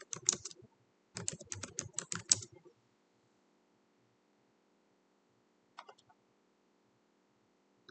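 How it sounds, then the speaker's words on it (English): Typing on a computer keyboard in a quiet room, two short bursts of rapid key clicks followed by silence and a couple of isolated taps, close and faint. "I'm going to give myself a moment to type that in."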